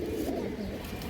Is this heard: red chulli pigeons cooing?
yes